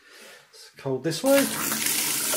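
Water streams from a newly fitted monoblock sink tap, rising to a steady broadband rush after someone briefly speaks over the start.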